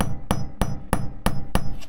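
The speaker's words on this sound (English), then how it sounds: "hammer down until the grommet kind of bites and stops twisting" A hammer strikes a grommet-setting tool to fix a grommet in place: six sharp, evenly spaced blows land about a third of a second apart, loud and close, with no talking.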